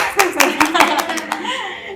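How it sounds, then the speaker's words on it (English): A group of children's hands clapping at a school event in quick, irregular bursts, close and loud, with a voice briefly audible as it fades out. "Clap for yourself."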